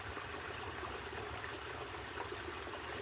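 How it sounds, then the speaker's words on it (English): Water cascading over a flat rock spillway into a garden pond: a continuous, even splashing rush, soft and steady throughout with no voices. "We created a nice little flat spillway going across that top, just to allow that water to cascade."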